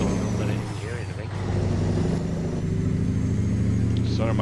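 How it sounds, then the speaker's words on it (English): A heavy truck engine in a trucking video game rumbles loud and constant, with an air-brake hiss partway through and a voice talking over it. "Sorry, my truck is loud."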